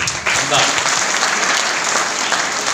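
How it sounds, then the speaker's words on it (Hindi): An audience at a gathering breaks into loud, sustained applause for a speaker, a thick wash of many hands clapping close by, with faint voices mixed underneath. "जोरदार ताली"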